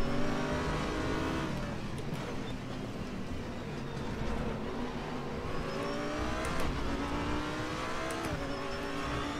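Roaring race car engines in RaceRoom Racing Experience rev and whine continuously, with gear shifts and passing cars layered in a dense, loud mechanical drone.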